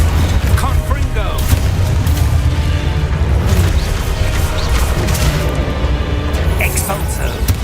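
Loud, dense spell-combat clamour from Hogwarts Legacy, with rumbling booms and crashes consistent with Confringo blasting spells going off close by. Continuous heavy low-end roar runs throughout, with sharper bursts near the end.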